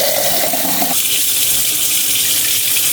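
Water pours from a tap into a cooking pot for mackerel sardine soup with wild onion, a strong steady rush that shifts tone partway through as the vessel fills, continuing loud and unbroken without speech.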